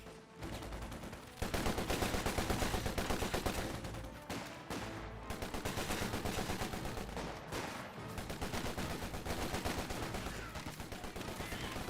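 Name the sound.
Bren guns firing in Company of Heroes 2 video game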